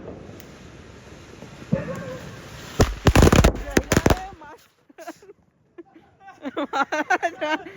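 A burst of Diwali firecrackers pops and crackles loudly in rapid succession, then people talk excitedly nearby as the bangs stop.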